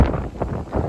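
Wind buffets an iPhone 15 microphone outdoors on a very windy evening, a loud, rumbling, gusty roar that swells and dips through a single second with no one speaking.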